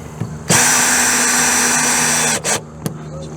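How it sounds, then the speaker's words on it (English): A power drill drives screws into a brace during an Atwood water heater replacement, one long steady whir of about two seconds followed by two short bursts, loud and close with no talking. "let me get all these screws in and we'll be right back."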